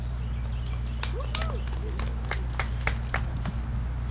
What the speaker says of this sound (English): it's like three people clapping